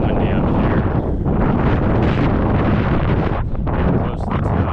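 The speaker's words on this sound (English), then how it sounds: "So it's a bit windy out here." Steady wind gusting outdoors along the Camino de Santiago Francés trail, a constant loud rumble buffeting the microphone with no break throughout.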